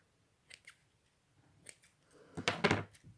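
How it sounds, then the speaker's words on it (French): Scissors snip through paper up close during a card-making craft, a few quiet isolated clicks followed by a louder burst of cutting near the end. "Je vais venir couper."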